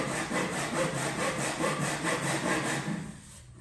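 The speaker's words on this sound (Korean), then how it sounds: "앞에도 일직선으로 잘 내려가는지, 그 다음에 여기도 일직선으로 요 가운데 잘 잘리고 있는지 확인하면서 톱질을 하세요." A hand saw cuts through a wooden board in steady, rhythmic back-and-forth rasping strokes, close and clear, ending as the cut slows near the finish.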